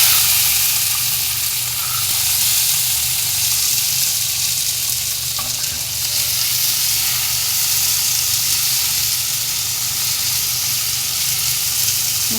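Green peas fry in hot oil with cumin in a pan, a steady loud sizzle and hiss lasting throughout, with no talking.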